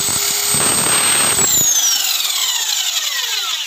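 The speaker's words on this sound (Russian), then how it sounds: "Мотор как у дрели хороший, такой свистящий, советский." Motor of a Soviet-style Lepse electric nibbler shears, a loud high whining drill-like spin that holds steady, then cuts off and winds down with a falling whistle over the last couple of seconds.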